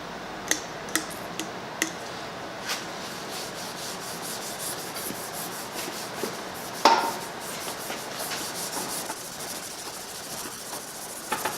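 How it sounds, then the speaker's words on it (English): A brush scrubbing rust off the piston of a hydraulic hoist, a steady back-and-forth rubbing hiss with scattered sharp ticks and one louder knock partway through, close and moderately quiet. "So when we scrub back and forth, instead of scraping the surface, we are genuinely going to be brushing the surface and pushing it off."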